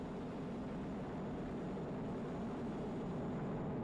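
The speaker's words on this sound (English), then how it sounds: "Falcon 9 engines now throttling down to help pass through the period of maximum dynamic pressure" SpaceX Falcon 9 rocket engines roar during the Crew-8 launch: a steady, low, broadband rumble that is continuous and fairly faint, with no voices.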